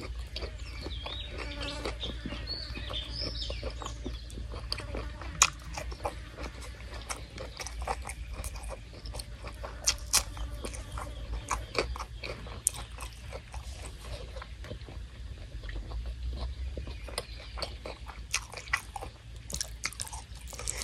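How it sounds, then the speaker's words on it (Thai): Close, quiet crunchy chewing of a spicy Thai salad made with crisp beef skin, a steady run of small crackling bites and munching continuing throughout without speech. "ยำนี่กรุบกรุบกรุบเลยครับ"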